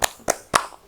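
Three sharp claps, evenly spaced and close together, from a group doing a rhythmic spirit clap during an online Ramadan session.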